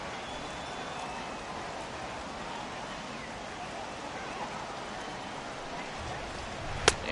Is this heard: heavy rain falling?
yes